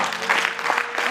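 Congregation applauding during a church celebration worship service, a short, loud burst of steady clapping from many people with voices mixed in.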